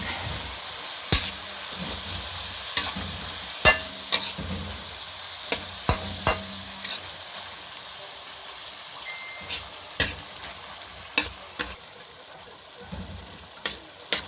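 Sotanghon guisado, glass noodles with soy sauce, is stirred in a hot pan with sharp metallic spatula scrapes and clacks every second or so over a soft, steady frying sizzle, close up, with no talking.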